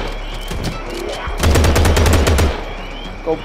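Video game gunfire in a gangster shooter set in New Orleans: a loud, rapid burst of automatic fire lasting about a second, preceded by a few scattered single shots, up close.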